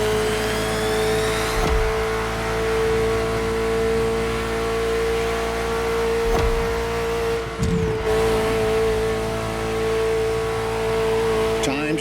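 Ferrari F40 in the racing game The Crew Motorfest, its engine holding a loud, sustained high drone with a steady tone, briefly shifting pitch near the end.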